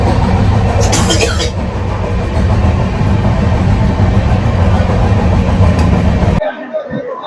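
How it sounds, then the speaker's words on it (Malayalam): Rumbling, rattling noise of a moving train fills a crowded general-class compartment, with voices and chatter underneath, then cuts abruptly to quieter sound near the end. "ഇപ്പോൾ നിങ്ങൾ കാണുന്നത് ഈ ട്രെയിനിൻ്റെ ജനറൽ കമ്പാർട്ട്മെൻ്റാണ്"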